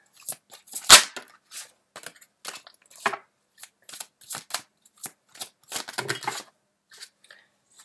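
Tarot cards shuffled and dealt out, a run of crisp slapping and riffling snaps with one sharp loud snap early, then scattered lighter flicks and a brief denser riffle, close and dry with no talking.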